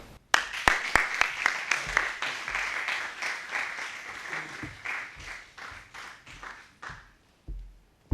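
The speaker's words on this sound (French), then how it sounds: "je vous demande d'applaudir Kavya." Sustained audience applause at a French-language eloquence contest, many hands clapping steadily, fairly loud and continuous, thinning out toward the end.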